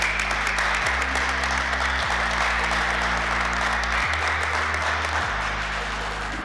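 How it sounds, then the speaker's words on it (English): A crowd applauds the police department team that won a free throw contest at a virtual Hoops for History basketball event, with steady clapping running over sustained, shifting musical tones throughout. "let's give them a big round of applause for winning the contest"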